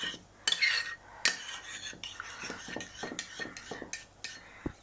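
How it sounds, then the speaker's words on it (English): Lamb mince for a doner kebab is mixed with seasoning in a bowl, with a run of irregular clinks and scrapes of utensil against dish, close by and without talk. "Give it a good mix round."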